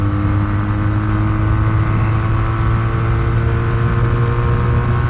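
A Pilder 250 motorcycle engine runs with the throttle opened at Istanbul Airport. It gives a loud, close, steady droning roar with a strong low hum that holds without pause, and no one speaks.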